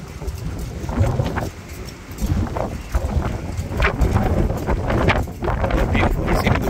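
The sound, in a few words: wind blowing into the microphone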